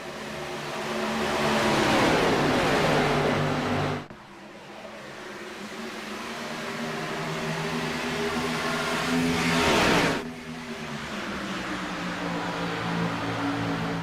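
NASCAR stock cars race on a restart at Chicagoland, the engines roaring loudly as the pack swells and sweeps past, dipping, then builds again and roars by a second time.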